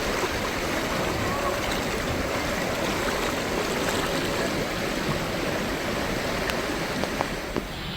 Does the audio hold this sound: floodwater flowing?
yes